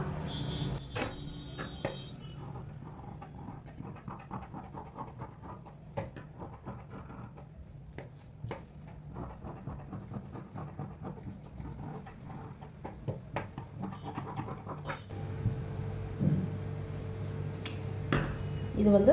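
Scissors cut the back piece of a blouse from fabric in a quiet room, giving a run of soft, close snips and crisp clicks that grow busier toward the end.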